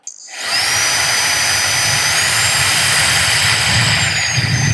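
A small handheld vacuum cleaner's motor whirs steadily at high pitch with a loud airy rush, switching on abruptly and running continuously up close.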